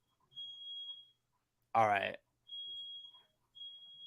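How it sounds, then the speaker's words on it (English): A smoke alarm emits steady high-pitched beeps, roughly a second long with short gaps between them, at moderate loudness indoors, and a voice briefly speaks over the gap between beeps. "My fire alarm's going off."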